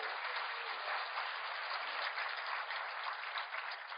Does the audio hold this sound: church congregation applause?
yes